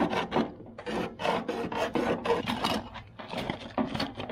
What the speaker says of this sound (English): I'll use the hacksaw and repeat the process on the other side.